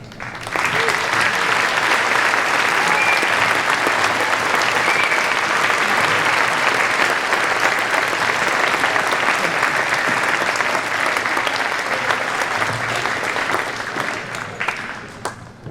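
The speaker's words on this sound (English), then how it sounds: "They worked very, very hard, and they deserve a lot of recognition and applause." A school audience applauds at a 7th grade spring band concert, a loud, dense, sustained wash of clapping from many hands that holds steady for about fifteen seconds before tapering off at the end.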